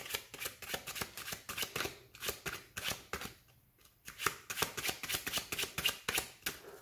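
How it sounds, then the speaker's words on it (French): A deck of playing cards shuffled by hand during a magic trick: rapid, crisp riffling flutters in quick repeated bursts, close and fairly soft, with a brief pause midway before the riffles resume. "On va en mélanger encore le jeu."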